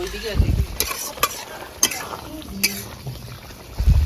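Spinach-paste chicken curry is stir-fried in a pan, with loud, close spatula scrapes and stirs over a bubbling, frying sizzle, several distinct strokes across the few seconds.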